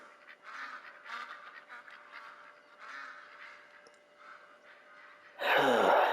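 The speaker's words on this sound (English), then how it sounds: "Oh, the ducks." Ducks quacking outdoors during a hunt, a burst of loud honking calls near the end after several seconds of quieter, scattered calls under a faint steady hum.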